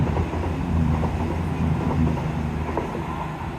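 A train rumbles past steadily in Teignmouth, low heavy rolling noise with faint rhythmic clacks, fairly close and continuous throughout.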